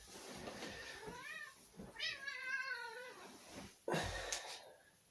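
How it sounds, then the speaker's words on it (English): A pet cat meows several times up close, with rising and falling drawn-out calls and a louder final cry, in a quiet indoor room. "I'm going to bring the cat in just to say hi."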